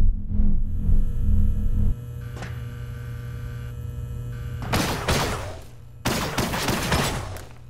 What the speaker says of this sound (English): Equip and use the directed energy pistol to dissipate the hologram.